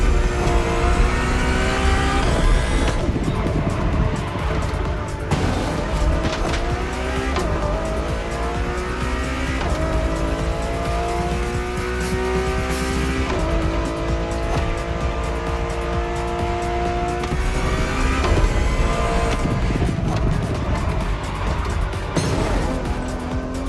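Ferrari Enzo V12 racing in The Crew Motorfest video game: a loud, continuous engine roar rising and falling through gear changes, with repeated upshifts and brief tire squeals, close and steady throughout.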